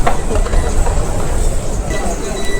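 A Delhi Metro train runs with a steady low rumble and rolling rail noise inside the carriage, continuous and fairly loud, while people talk over it.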